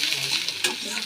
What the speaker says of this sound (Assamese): প্ৰথমতে তেল দি অলপমান পিঁয়াজ ভাজি ল'লোঁ